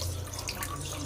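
Water pours into a pot of mutton curry being cooked for a fried mutton dish, a brief, steady, close splashing rush with no voices.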